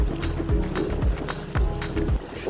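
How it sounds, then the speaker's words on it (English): A sailing boat punches through waves at sea, with rhythmic slaps and thumps of water against the hull about every half second over a steady rushing wash. "We're just punching up here now, sailing along."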